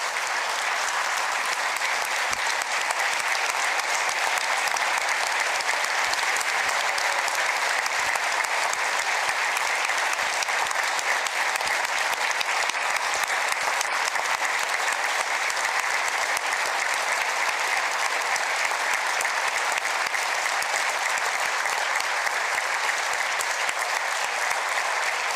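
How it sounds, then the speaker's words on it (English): Sustained audience applause for nursing home staff at a state address fills a large hall, a dense and even wash of clapping that holds steady and loud for the whole stretch without a break. "We'll give you a round of applause"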